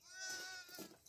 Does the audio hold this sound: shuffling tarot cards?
no